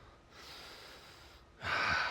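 Heavy breathing during a goddess pose exercise: two close breaths, the second louder and rougher than the first.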